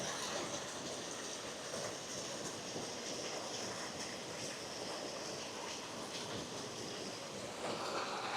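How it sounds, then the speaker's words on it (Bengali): Water falling in a mountain village in the Atlas Mountains of Morocco, heard as a steady broadband rush with no pauses, moderately faint and without speech. "এখানে দেখুন পানি পড়তেছে"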